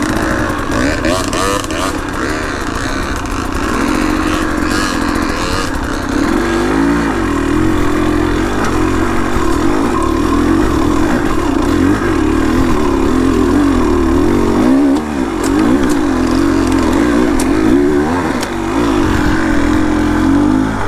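A HengJian Z300 two-stroke motorcycle buzzes loudly while being ridden, its rasping engine note rising and falling continuously with changes in throttle.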